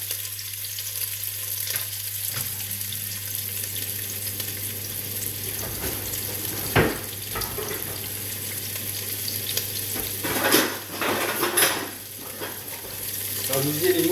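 Onions dropped into hot oil in a pan: a steady, close frying sizzle holding throughout, with occasional louder bursts and stirring clatter, and no talk over it.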